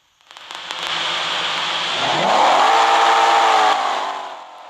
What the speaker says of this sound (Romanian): Îi dăm sonoră mai tare să auziți și voi motorul.